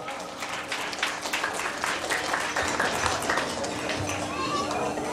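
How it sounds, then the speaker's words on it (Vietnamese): An audience at a Lunar New Year community gathering claps continuously in a dense, sustained round of applause that holds steady throughout, with a little crowd murmur mixed in. "Xin mời quý vị cho thi nhạc sĩ Miên Du một tràng pháo tay đập to."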